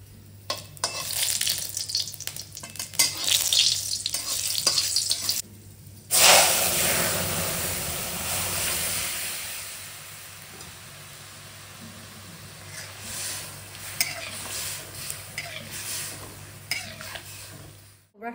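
Spices crackle and sizzle loudly in hot oil as a tempering is added to gourd lentil dal in a home kitchen, with a sharp burst of frying midway, then a steady hiss and occasional clinks of utensils, no talking.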